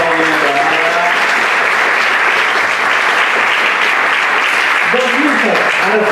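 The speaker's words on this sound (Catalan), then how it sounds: "Un aplaudiment per Marga." A theatre audience applauds in a dense, continuous wash of clapping lasting several seconds, with a voice speaking briefly at the start and again near the end.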